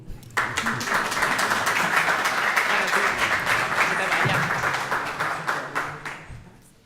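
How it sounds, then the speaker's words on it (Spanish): An audience at a live event applauds for Estefanía, a dense, steady wash of clapping that swells quickly, holds for several seconds and then tapers off near the end. "Un aplauso para Estefanía."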